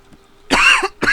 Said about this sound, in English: Still got that stupid cough a little bit